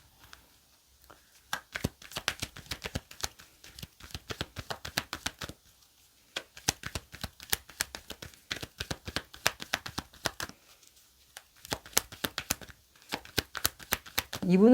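Tarot cards being shuffled by hand: close, crisp riffling bursts in repeated runs separated by short pauses, with a quiet voice talking in places.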